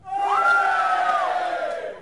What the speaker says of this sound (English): Give me a cheer if you've ever been to Somerset.